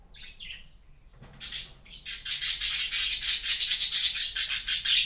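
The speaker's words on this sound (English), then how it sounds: "Sorry, my birds are so chatty today." Small birds chirp and squawk close by, starting with a few calls and building into rapid, continuous chattering.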